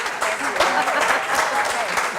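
Audience applause at a film festival panel on survival strategies for independent filmmakers, a steady wash of clapping from a room of listeners lasting a couple of seconds, with some voices mixed in.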